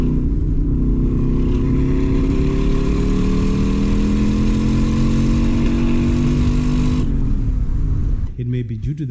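A drag racing car engine holds a loud, sustained high-rev drone that climbs slightly in pitch, fails to reach full rev, then drops sharply back toward idle near the end.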